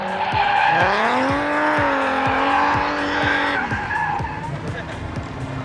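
Sustained high-pitched tire squealing from cars drifting at a car show, loud and continuous with engine revving underneath, fading slightly toward the end.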